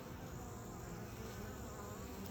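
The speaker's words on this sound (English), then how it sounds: "you'll notice none of these bees have any pollen on their legs" A dense swarm of bees hums steadily and continuously at close range, with no speech over the sound.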